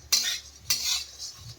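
A metal spoon scrapes and clinks against a pan while fried flattened rice is mixed with peanuts and salt, two distinct stirring strokes a half-second apart, close and clear, with no talking.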